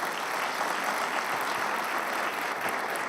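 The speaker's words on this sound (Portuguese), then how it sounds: "uma salva de palmas para eles" Steady, dense applause from a church congregation during a service fills the whole stretch at an even, fairly loud level, with no voices standing out.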